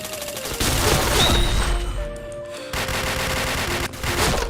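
Sustained volleys of gunfire in a first-person shooter match, loud and near, with dense rattling bursts broken by a brief lull before resuming.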